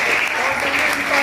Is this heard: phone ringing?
no